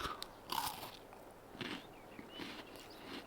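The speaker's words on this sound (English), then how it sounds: "sounds like biting and chewing" Someone bites and chews crunchy food close to the microphone, with several sharp crunches followed by softer chewing and crackles. No one speaks.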